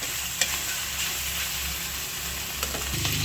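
Pork for sinigang fries in a pan with a steady close sizzle and a low rhythmic hum underneath, plus a few soft clicks, and no talking.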